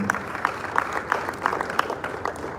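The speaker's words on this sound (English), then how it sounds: "A round of applause for her, please." Audience applause for Madam President at a panel session event, steady clapping with a faint rhythmic pulse, moderately loud and continuous throughout.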